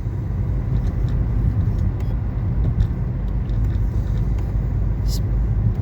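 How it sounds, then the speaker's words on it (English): A little Smart car buzzes past with a steady low rumble that holds at an even level throughout, while people talk over it. "Just buzzing around in that little smart car."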